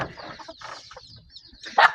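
Chickens cluck in a village yard in the morning, a few short calls repeating near by, with one louder, sharper call near the end and no talking.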